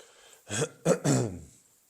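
A person clears their throat three times in quick succession, close and fairly loud, with quiet before and after.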